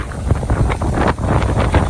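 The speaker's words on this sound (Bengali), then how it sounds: "মারাত্মক ঝড় শুরু হয়েছে," Strong storm wind in a Kalbaishakhi squall near Gazipur blasts the microphone with steady, loud roaring buffets and gusts, close and continuous without pause.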